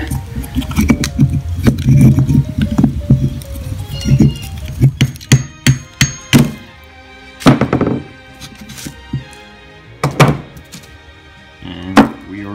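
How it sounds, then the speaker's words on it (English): Brake pads are slid out of a brake caliper during a caliper repaint job, giving a string of close metallic clunks, scrapes and clinks with uneven pauses between them. "all you'll need to do is just slide the brake pads right out"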